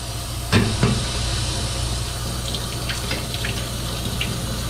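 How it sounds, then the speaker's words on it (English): Water runs steadily from a kitchen sink tap while a raw potato is rinsed and scrubbed under it for hashbrowns, a continuous close hiss with a couple of brief knocks near the start. "I'm going to wash this potato first"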